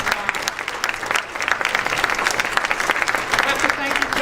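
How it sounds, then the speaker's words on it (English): A council meeting audience claps for children in a dense, steady round of applause heard close and continuous throughout. "A great round of applause."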